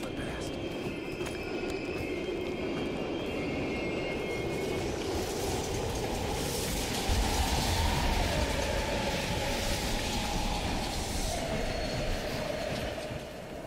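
Moving train in Call of Duty Black Ops Cold War, set in abandoned stations, a loud steady rolling rumble with wheel squeal and clatter, a heavier thump partway through, with indistinct voices faintly mixed in.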